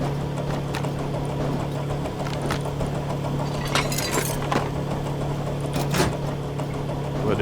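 Recycler grinding loot into scrap in the game Rust, a constant low mechanical drone with scattered clinks and crunching bursts over it, fairly loud and steady.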